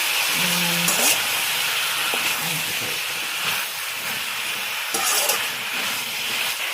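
Brinjal and potato curry sizzles in a pan with a steady, close hiss and faint clatter of stirring throughout.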